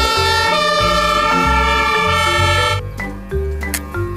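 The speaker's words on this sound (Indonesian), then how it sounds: "ada damkar mobil pemadam kebakaran teman-teman" A toy fire truck sounds a loud electronic siren, a steady wailing two-tone melody that cuts off partway and gives way to a short tinkling jingle, close and with no talk.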